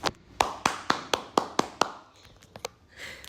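Hands clapping up close: about eight evenly spaced claps in a quick rhythm, then a few looser, scattered claps, with no talking.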